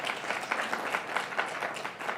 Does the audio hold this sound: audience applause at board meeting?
yes